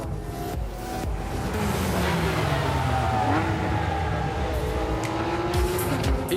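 A car driven at very high speed around an 8 km test ring for tire stability testing, with a loud, sustained engine roar whose pitch rises and falls against heavy rushing wind and road noise.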